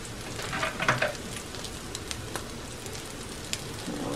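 Potato patties bound with egg fry in a pan, giving an even crackling sizzle with scattered pops and a few louder spatters early on.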